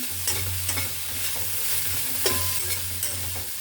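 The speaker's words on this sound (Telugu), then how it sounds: "ఇంకా ఉల్లిపాయలు వేగిపోయాయి." Onions fry in a pan while being stirred, giving a continuous sizzle with repeated scraping strokes and a low hum underneath, close and steady, with nobody talking.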